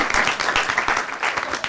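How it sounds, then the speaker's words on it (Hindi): Brief burst of audience applause on a television discussion show, close, busy clapping with uneven pulses throughout. "इनके लिए जोरदार तालियां"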